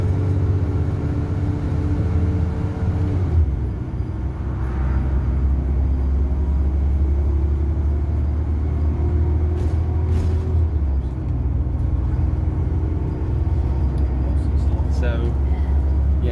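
A Johnson Bros Tours bus, registration S805 BWC, drones with a deep, laboring engine rumble that holds steady throughout, with gear and pitch shifts and a brief hiss partway through, while someone talks over it.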